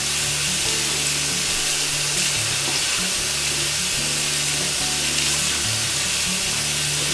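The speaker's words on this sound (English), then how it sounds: "And then let's rinse them out." Makeup brushes rubbed with soap under a steady stream of running water, a continuous broadband wash with a low droning hum throughout, close and fairly loud, no talking.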